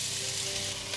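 Onions, carrots, garlic and squash sizzle steadily in a hot pan, a close, even crackling hiss with no talking.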